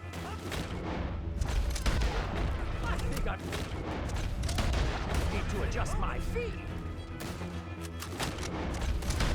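Gunfire in Red Dead Redemption 2 during a mission against O'Driscolls on horseback: dense, continuous shots and booms layered over game sound, with a voice talking throughout.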